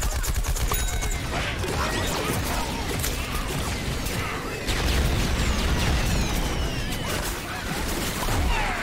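Dense, continuous gunfire and crashing effects from the Plants vs Zombies Garden Warfare 2 video game, rapid bursts and impacts layered densely throughout at a steady, loud level.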